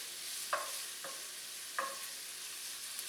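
Prosciutto slices frying in a pan: faint, steady sizzle with three or four sharp clinks and scrapes of a utensil separating the pieces, quiet and close, with no voices.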